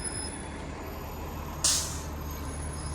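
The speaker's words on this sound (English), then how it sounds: "The buses are going this morning. That's what you're hearing, Mickey bus." A Disney Mickey bus drives past at a Fort Wilderness campground, its engine rumbling low and steady until a sharp, loud hiss of air brakes bursts out midway, then fades back into the idling drone.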